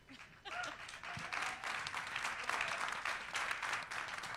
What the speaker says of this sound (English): Round of applause for Sandra.